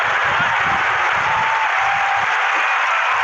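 Cricket crowd applauding at a New Zealand versus Australia one-day international, a steady dense wash of clapping from a large stadium audience, sustained throughout with no talk over it.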